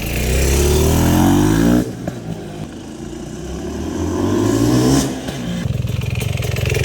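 A tuned 2023 GasGas 500 BRC big-bore dirt bike engine pulls up through the revs, drops to a slow lumbering idle, then rumbles in 3rd gear with a deep, steady low-rpm chug, close and loud.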